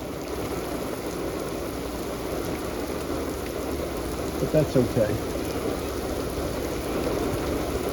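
Steady rain falls across a harbor, a dense even hiss on surfaces that runs throughout, with a few nearby thumps midway and a voice speaking briefly over it.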